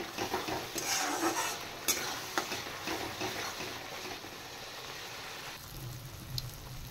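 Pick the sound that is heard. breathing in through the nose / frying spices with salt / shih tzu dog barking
frying spices with salt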